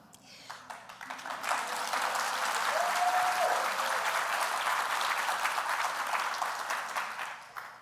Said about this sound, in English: I'm so pleased to hear that applause